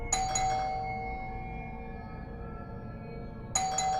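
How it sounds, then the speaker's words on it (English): A doorbell chimes a two-note ding-dong at the start, rings out and decays, then sounds again near the end over a low, quiet background hum. "At that time, someone rang the bell."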